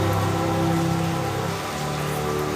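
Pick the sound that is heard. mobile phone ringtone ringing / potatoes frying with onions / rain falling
rain falling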